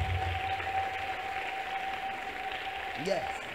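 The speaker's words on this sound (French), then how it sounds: "Applaudis encore, applaudis" An audience applauds a choir with steady, dense clapping at moderate distance, and a voice speaks briefly near the end.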